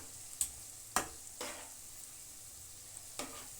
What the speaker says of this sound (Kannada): ಉಬ್ಬಿ ಕರಿಯುತ್ತೆ, ತುಂಬ ಚೆನ್ನಾಗಿ ಉಬ್ಬಿ ಕರಿಯುತ್ತೆ.